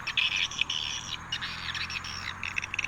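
Repeated high twittering swallow calls played from a bird-calling speaker, faint and fairly constant, with a low hum underneath and no voices.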